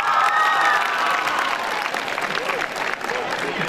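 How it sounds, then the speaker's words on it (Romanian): High school students applauding and cheering at a start-of-year ceremony as new homeroom teachers are announced, a burst of crowd clapping that begins loud and gradually thins, with a voice briefly audible over it. "La auzirea numelor noilor diriginți, elevii au aplaudat și s-au bucurat frenetic."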